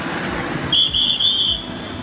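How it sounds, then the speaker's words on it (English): Whistles blowing in short bursts on the Indy 500 pit lane, three piercing blasts in quick succession over steady crowd and pit lane murmur. "There's a lot of whistling."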